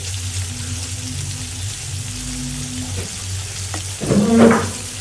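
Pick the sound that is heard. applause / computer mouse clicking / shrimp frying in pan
shrimp frying in pan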